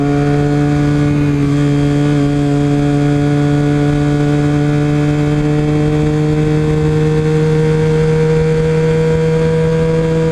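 A Yamaha R6 motorcycle hums along at a steady engine tone while riding, a loud constant drone with a slight rise in pitch, no speech.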